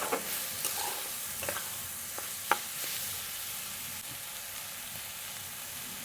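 Rice coated with turmeric frying and being stirred in a pan, a steady soft sizzle with scattered light scraping clicks and one sharper knock, close and alone without talk.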